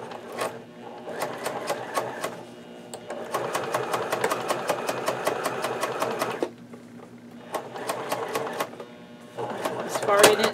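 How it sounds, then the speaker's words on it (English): A domestic sewing machine stitches a zipper into a fabric bag, running in bursts of rapid mechanical whirring and clicking with pauses between runs, while a person talks over it. "going to sew up to the side seam and then go back and forth at the beginning and the end and then stop"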